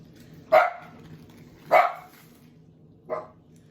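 Dogs bark three times in a kitchen while a honeycomb sponge cake batter with tapioca flour is being mixed; loud sharp barks spaced about a second apart, the last one shorter and softer, with no talking.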